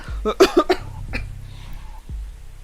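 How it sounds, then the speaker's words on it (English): A short burst of several close coughs in quick succession, followed by a quieter single cough a moment later. "you get to hear me cough a lot"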